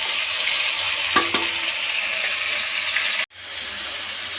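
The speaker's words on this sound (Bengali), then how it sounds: "মাছের মাথাগুলো ভাজছি" Fish heads frying in hot oil for a cabbage dish give a steady, close sizzle with a few sharp stirring clinks near the start, then a brief cut before the sizzle resumes.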